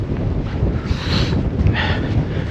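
Steady wind roaring across the microphone on a hillside path heading down toward Howden Dam in the Peak District, a continuous low buffeting rush with gusty swells throughout, loud and close.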